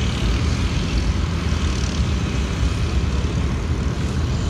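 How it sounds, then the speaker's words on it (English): A 1960s Allis-Chalmers scraper works dirt at a historical construction equipment show, giving a loud, steady diesel roar with a deep rumble that holds unbroken and close throughout. "Of course, he'll scrape the dirt up here."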